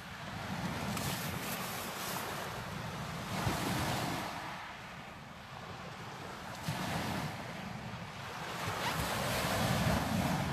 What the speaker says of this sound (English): that wind's dropped right down